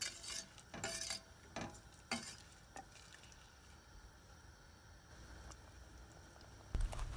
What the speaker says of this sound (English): Mix the sambar powder very well with the liquid so that it will not form any